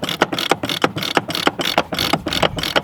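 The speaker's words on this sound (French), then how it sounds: "pour bien diffuser la graisse et l'huile un peu partout, on vient faire des tours de winch" Sailboat winch turned by hand after fresh grease and oil, giving a rapid, even series of close ratcheting pawl clicks throughout.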